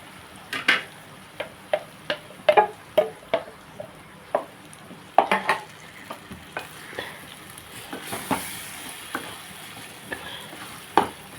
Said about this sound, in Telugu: ఇప్పుడు మొత్తం కలిపేసుకుని స్మెల్ పైకి వచ్చేస్తుంది ఎండ్రేలు